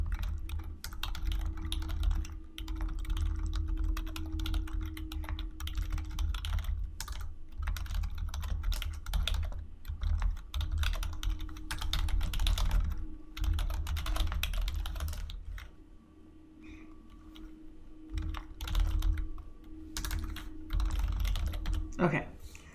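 A lecturer's computer keyboard, typed on steadily at close range in long bursts of rapid clicks with brief pauses and a low room hum, the speaker staying silent.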